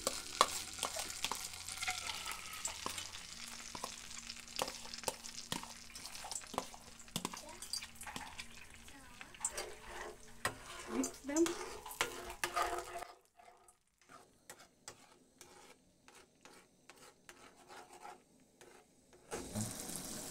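A ketchup and honey mixture is stirred into margarine in a pan while cooking chicken wings, giving repeated scraping and tapping strokes over a soft sizzle, then quieter stirring with a brief pause and louder scraping at the end.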